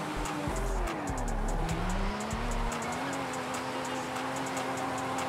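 A Forza Horizon 5 car drifts with its tires squealing in a long wavering screech over steady engine drone, broken by a few sharp low thumps, with no talking.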